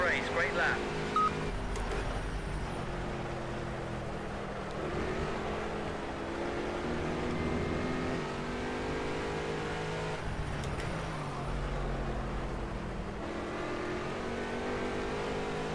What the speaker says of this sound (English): let you guys listen to the engine noise